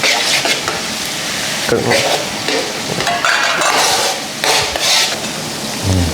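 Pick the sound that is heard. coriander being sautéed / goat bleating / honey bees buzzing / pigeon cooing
coriander being sautéed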